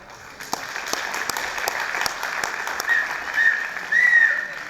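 Audience clapping at a Pongal festival gathering, steady and moderately loud across the whole stretch, swelling near the end, with a faint voice underneath.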